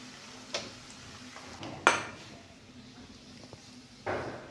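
A spoon scraping and clinking against a pot as kaara pongal masala is mixed into cooked rice, with a few sharp metallic taps spaced apart over quiet room noise.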